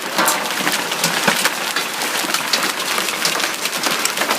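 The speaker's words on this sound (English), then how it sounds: "It's hitting on it so hard, it's shattering." Large hailstones, like bouncy-ball size, pound a surface and shatter during a hail storm, a dense, loud, continuous clatter of sharp cracking impacts with no voices.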